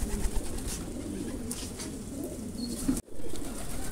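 Pigeons coo softly and steadily in a loft of fancy show birds, a low murmuring texture running throughout with a brief dropout near the end.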